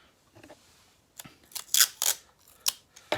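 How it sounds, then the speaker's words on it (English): Tape is pulled off and pressed onto a straw craft project at home, giving a series of short, crisp tearing and crinkling bursts close up, irregularly spaced over a few seconds with no talking. "I'll put another piece of tape on the bottom of this one"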